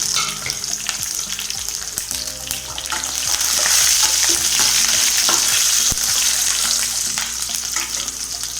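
Green chillies and curry leaves fry in hot oil for a potato masala, crackling and sizzling loudly and continuously, with a louder burst midway and occasional sharp pops, with no talking.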